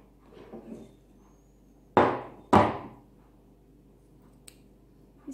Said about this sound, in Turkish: Şimdi bu alt tarafı, püskül tarafını keseceğim şimdi.